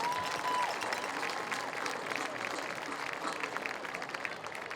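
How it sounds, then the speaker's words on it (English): A crowd at a high school football game applauds steadily throughout, a dense wash of clapping heard from a distance, with some voices and cheering mixed in. "Let's have a nice round of applause for Danielle Eccles."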